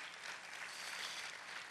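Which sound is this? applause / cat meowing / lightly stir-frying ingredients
applause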